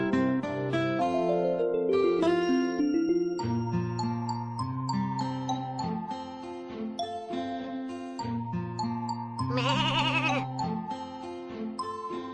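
Sheep bleat in a children's farm animal care game, the calls set over a constant, busy backdrop of cheerful tinkling music.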